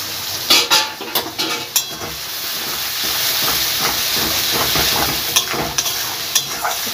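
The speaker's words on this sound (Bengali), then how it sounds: "পেঁয়াজটা ভালোভাবে ভেজে যেতে হবে, যতক্ষণ না জলটা শুকিয়ে যাচ্ছে" Onion paste made with very little water frying in a pan, a loud, close, continuous hiss and sizzle with bursts of stirring and spatula scrapes, no talking.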